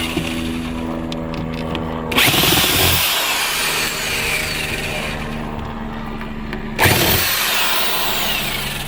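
A power drill drives screws into a subwoofer box for a 2003 Tahoe: a steady whirring run, a sharp louder burst near the middle, then another surge near the end, close and loud with no talk.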